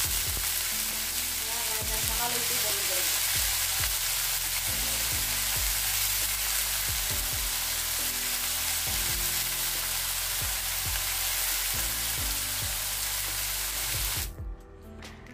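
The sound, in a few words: beans and potatoes frying in a pan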